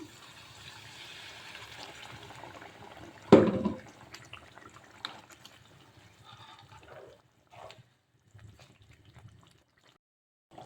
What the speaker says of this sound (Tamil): சிக்கன் வேகிறதுக்கு கொஞ்சமாக சுடு தண்ணி ஊற்றிக்கலாம்